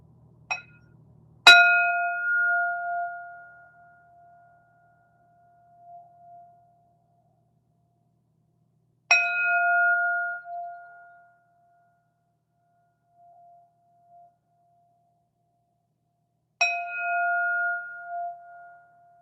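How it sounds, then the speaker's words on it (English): A mindfulness bell rings three times during a meditation session, each strike bright and metallic with a long shimmering decay that fades to silence before the next, spaced several seconds apart. "Let's go third bell."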